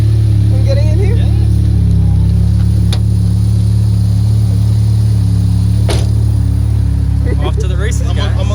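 An Infiniti G35's engine runs at a steady loud idle drone from inside the car, with occasional sharp clicks and thumps over it.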